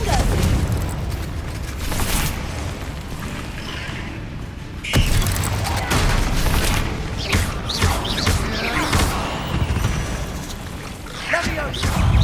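Loud fiery blast from the Confringo spell in the Hogwarts Legacy video game, a sharp booming burst near the five-second mark amid dense, continuous combat noise and rumbling game effects.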